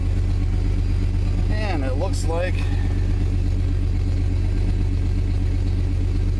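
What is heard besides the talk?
1995 Chevrolet Suburban engine running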